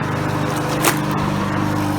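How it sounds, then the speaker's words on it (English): A lawn mower runs steadily while someone's brother mows the yard, a continuous loud droning engine hum with no other sounds over it. "My brother's mowing the yard right now."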